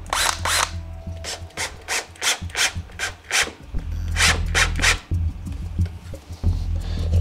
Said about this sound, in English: now we have to do some work with a screwdriver